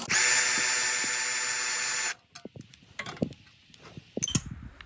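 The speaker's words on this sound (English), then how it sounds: "So I'll use a T30 and pull this bolt out" A power driver with a T30 bit backs a bolt out of a Briggs and Stratton V-twin engine, a loud steady whine for about two seconds, then stops, followed by light clinks and handling noises.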